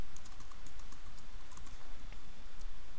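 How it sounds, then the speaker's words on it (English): Fingers tap out text on the keypad of a Konica Minolta bizhub 601/751 copier, a rapid, uneven run of light clicks close by over a steady machine hum, with no talk. "and then type in the text"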